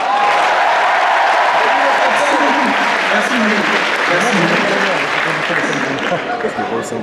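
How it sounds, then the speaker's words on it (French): Loud, sustained audience applause at a convention talk at Polymanga 2014, a thick roar of clapping with crowd voices mixed in, tapering near the end as a voice speaks briefly. "On l'applaudit bien fort!"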